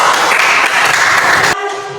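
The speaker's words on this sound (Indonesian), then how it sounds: "tepuk tangan untuk kelompok 3" Classroom of students clapping for a presenting group, a brief dense burst of many hands close by that cuts off abruptly after about a second and a half.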